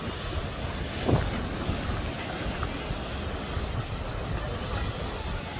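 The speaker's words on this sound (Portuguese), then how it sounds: "O mar tá querendo fazer barulho aí" Sea waves at Matinhos beach wash in as a steady surf roar, mixed with gusting wind noise against the microphone. A faint brief voice is heard near the start.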